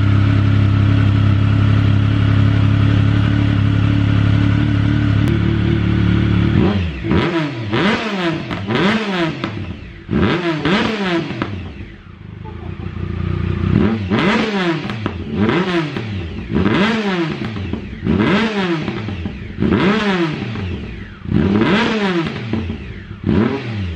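A motorcycle engine holds a loud steady drone, then is blipped again and again in a rhythmic series of rising and falling revs, close up with no talking.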